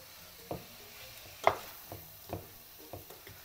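Mushrooms hitting a hot pan for a risotto, giving a series of short sizzling, stirring bursts at an uneven rhythm of about one per second, close and moderately loud, with no talking.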